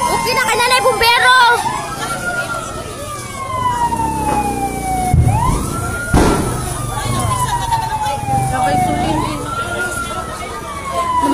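A fire engine siren wails in rising and falling sweeps at a fire in Pakpakan, Basak, Lapu-Lapu City, Cebu, loud and fairly near, with voices talking over it and a sharp knock midway.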